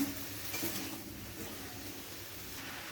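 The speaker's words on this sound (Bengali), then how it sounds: "দিয়ে আবার আমি ভালো করে নেড়ে নেব সবজিগুলো" Mixed vegetables with Malabar spinach stems are stirred in a frying pan, giving a soft, steady scraping and light sizzle close by, with no talk.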